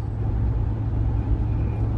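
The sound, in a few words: vehicle driving while towing a rented U-Haul trailer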